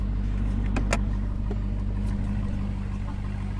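Car engine running steadily near and loud, a constant low mechanical drone throughout with little change in pitch, a few brief clicks and small knocks on top and no talking.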